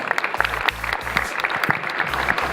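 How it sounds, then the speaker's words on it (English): An audience at a motorcycle show claps in a short burst of applause, steady and moderately loud, with a low hum running underneath. "Please give him a big round of applause"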